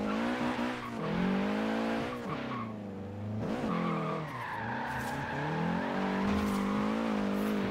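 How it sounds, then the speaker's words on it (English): A Nissan 240 drifting on a rain-soaked street in Forza Horizon 3, with sustained engine revving rising and falling and long tire squeals, loud and close, no talk. "doing some third-person drifting in this car"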